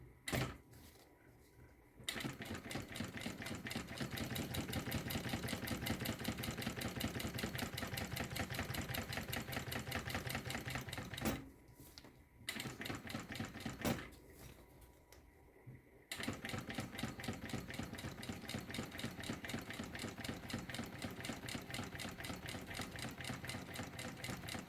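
Sewing machine stitching synthetic fabric with nylon thread in both bobbin and top, running in fast steady bursts of rapid needle clatter with a few short pauses between runs; quiet and close, no talking.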